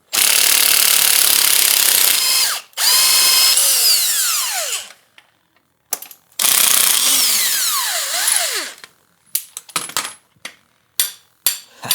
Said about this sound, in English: Let's see if we can get this swing arm bolt out of here